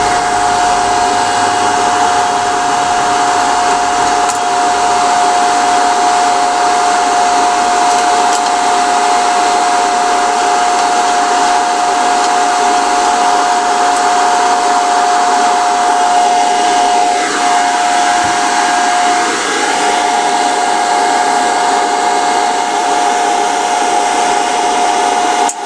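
A Hitbox MT2000 II welder feeding wire, a steady continuous motor whir with a constant tone running loud and unbroken throughout, slight shifts near the end as the feed speeds up.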